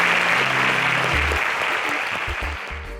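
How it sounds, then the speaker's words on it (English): A crowd at a televised competition gives a full round of applause for the contestants, a loud, dense wash of clapping that gradually thins out over a few seconds. "Please a round of applause for them."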